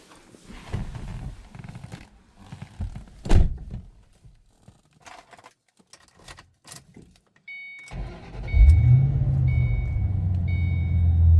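Inside a 2006 Ford Mustang Saleen S281 supercharged coupe with a 5-speed manual, a few door thunks and clicks come first, then a chime sounds and the cold engine cranks and catches into a loud, steady low idle.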